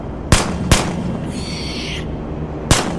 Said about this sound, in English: At the sound of gunfire